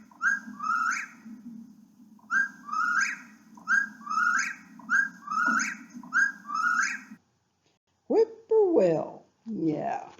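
A whippoorwill repeats its rhythmic three-note song five or six times in a steady series, clear and fairly close, over a low hum, followed by a few different bird calls after a brief pause.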